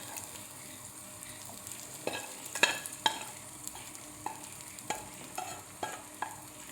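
Boiled jackfruit seeds fry with onion in a pan for a simple thoran, a soft continuous sizzle under repeated scraping taps of a spoon stirring, fairly quiet and close.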